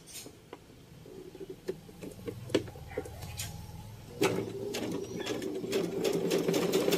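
A household sewing machine stitches a pattern, its needle ticking in quick uneven bursts that settle into a steadier whirring run partway through, fairly quiet and close, with no talking.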